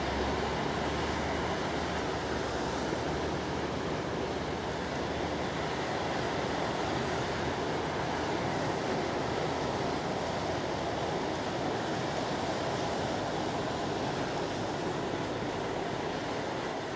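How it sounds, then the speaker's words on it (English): Continuous wash of surf along the beach at Burleigh Heads, a steady broad roar with gusty wind noise on the microphone and no distinct breaks or voices. "So we'll get a little bit of wave action happening along this beach here."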